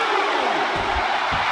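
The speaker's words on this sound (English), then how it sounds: "The sound of this crowd is deafening, and he's asking for more." A wrestling arena crowd during a SmackDown match roars in a dense, loud, continuous wash of cheering and noise with no break throughout.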